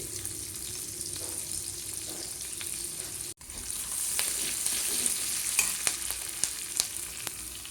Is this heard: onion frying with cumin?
yes